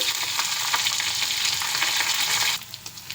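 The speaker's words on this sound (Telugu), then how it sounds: "పచ్చిమిర్చి వేసుకుందాం కరివేపాకు అల్లం తురుము" Green chillies, curry leaves and grated ginger fry in oil for dahi vada, a loud close sizzle that quiets suddenly near the end into a few scattered crackles, with nobody speaking.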